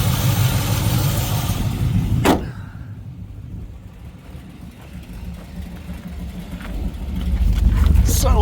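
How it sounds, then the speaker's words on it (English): A car with a swapped-in 5.3 LS V8 idles, its exhaust a steady low rumble that runs under someone talking and rises slightly toward the end. "you can at least hear myself talk over the exhaust now"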